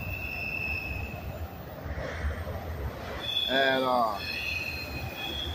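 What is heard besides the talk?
freight train with auto rack cars passing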